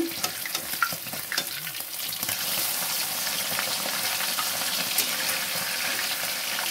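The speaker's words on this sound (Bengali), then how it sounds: "মাছটা 1 পিঠ ভাজা হয়ে গেছে।" Fish fries in white oil in a pan during home cooking, a loud continuous sizzle and hiss with a few spitting pops near the start that settles into a dense, even crackle.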